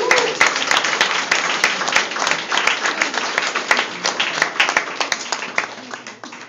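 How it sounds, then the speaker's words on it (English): A gallery audience gives a sustained round of applause, dense and loud throughout, with overlapping claps that gradually thin toward the end. "Alex, a round of applause to you."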